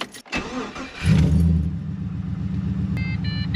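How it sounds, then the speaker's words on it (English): A car with a check engine light fault cranks briefly and fires up close by, settling into a steady idle, with a few electronic chimes sounding near the end. "We'll start the car back up and see if that's got rid of our check engine light."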